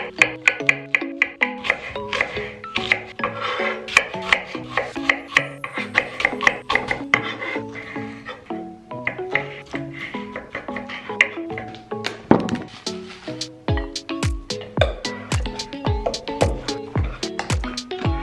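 Breakfast ingredients being packed together into a pot, heard as a long stretch of close, busy tapping, scraping and knocking of utensils against wood and the pot, uneven and continuous.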